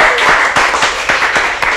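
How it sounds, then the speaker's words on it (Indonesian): Lively applause for a performer at a Surabaya gathering, dense rapid clapping from a crowd, close and loud throughout the short burst. "Tepuk tangan untuk Cak Memura."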